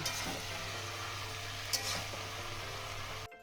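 Raw jackfruit with tomato and spices sizzles steadily as it is sautéed in a pan, with a few soft stirring scrapes over a constant low hum before cutting off abruptly.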